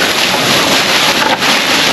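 Strong outdoor wind buffets the microphone at a dumpster diving spot, a loud, constant roaring rush with no one speaking.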